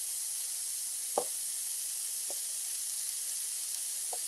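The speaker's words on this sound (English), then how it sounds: "I'm going to put my onions down here in the burger juices" Onions sizzle in leftover burger juices with a steady, soft hiss and a few faint pops spaced across the quiet stretch.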